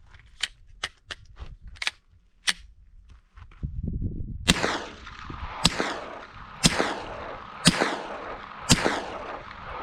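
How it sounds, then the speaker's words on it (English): Rifle fitted with a JK Armament suppressor firing five supersonic rounds: five sharp, loud cracks spaced about a second apart, each followed by a brief ringing echo, preceded by quieter clicks and handling noises. "So this will be 5 rounds again, supersonic, and then 5 rounds of subsonic."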